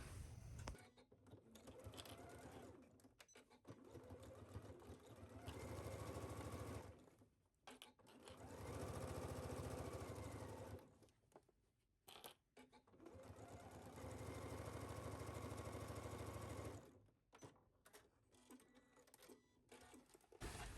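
A sewing machine runs 3/8-inch stitches down the side of a skirt pocket, whirring steadily in long, even bursts separated by brief stops, close and alone.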